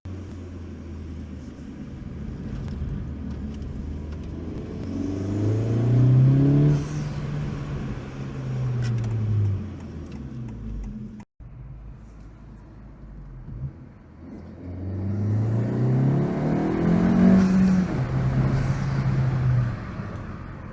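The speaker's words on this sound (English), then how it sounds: "the PRL high volume intake with a cold air duct. It really makes the car sound good" A 2025 Honda Civic Si fitted with a PRL high-volume intake and cold air duct accelerates twice in succession, engine note rising and falling with a whooshing intake roar, close and loud with no talk.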